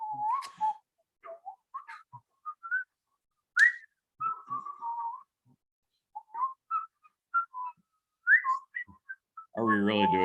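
Short bursts of human whistling, wavering tunelessly between notes with gaps between them, close and clear, ending in a brief burst of voice.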